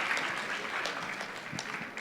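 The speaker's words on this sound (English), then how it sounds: "A round of applause for that, please." A burst of applause from an audience, a dense patter of clapping that carries on without a break.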